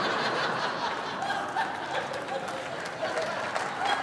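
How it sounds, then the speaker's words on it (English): Studio audience at a stand-up comedy show breaking into laughter and scattered clapping, a steady mid-distance crowd noise lasting the whole stretch. "Applause break."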